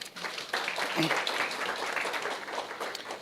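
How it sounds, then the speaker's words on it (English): A university audience gives a round of applause at a post-election youth dialogue event, a dense wash of clapping that stays steady for several seconds, moderately distant, with a voice talking faintly over it. "Give yourselves a round of applause, please."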